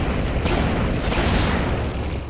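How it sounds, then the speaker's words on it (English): A gas tank in the video game Family Guy: Back to the Multiverse is shot and blows up in a loud, sustained, rumbling explosion with crackling bursts layered over the roar. "Stewie, we gotta shoot the gas tank!"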